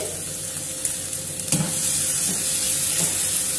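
Chopped tomato with salt sizzles loudly in a hot pan, a continuous hissing fry with a few soft knocks and clicks as the pieces are moved about.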